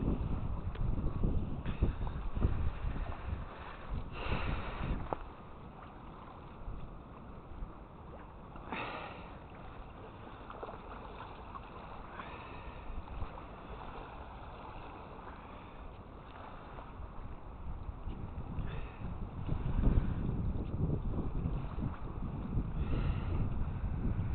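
Steady wind roars and buffets the microphone for the whole stretch while feeder fishing for bream, swelling louder at times, with faint splashes and sniffing-like bursts.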